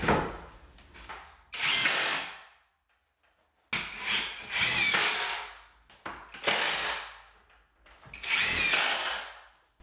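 Power drill driving screws into plywood workshop shelving, several whirring bursts of a second or two each separated by short pauses, close and fairly loud with no talking.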